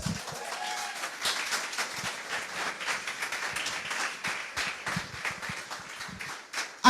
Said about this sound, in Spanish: Yo aplaudiría fuerte